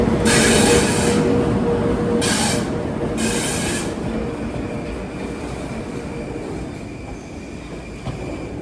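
A Long Island Rail Road train at a track platform in New York's Penn Station, with loud rolling rumble and high wheel squeals in bursts that ease into a steadier grind, no voices.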